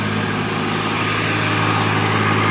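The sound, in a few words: tractor engine started at a mud-mixing site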